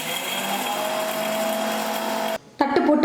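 An electric kitchen mixer grinder runs with a plate placed inside the jar, a loud steady whirring drone that cuts out abruptly near the end, followed by a brief rattle as it restarts.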